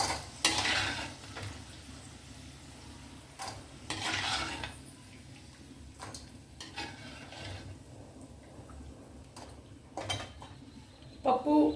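Onions frying in a pan and being stirred, with soft sizzling beneath repeated scraping strokes of a spoon against metal and a few louder clatters.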